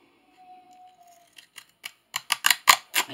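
Pinking shears cut through paper in a series of crisp snips, starting sparse and quickening into a close, rhythmic run of clacks, with no voice over them.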